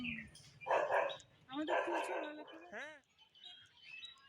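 A dog at a home in Siliguri, surrounded by trees, barks in two bursts of rough, rapid barks at moderate distance, with birdsong around it and people talking nearby.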